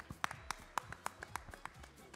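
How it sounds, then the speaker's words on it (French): At a French cooking show's oyster-opening contest, a small crowd gives scattered applause: a handful of distinct, sharp claps spaced unevenly, fairly quiet and sparse rather than a full ovation. "On peut l'applaudir bien fort, oui."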